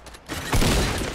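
A short burst of gunfire in a shooter game, a quick rattling volley that swells loud for about a second.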